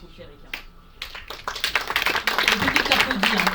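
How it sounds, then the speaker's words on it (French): Applause at a round-table conference on disability and equality starts hesitantly with a few isolated claps, then swells into steady clapping from a modest audience, close and moderately loud. "Le public applaudit"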